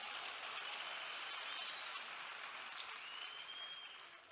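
A congregation gives a round of applause during a church sermon. The clapping is faint and distant, a steady wash that fades slightly toward the end.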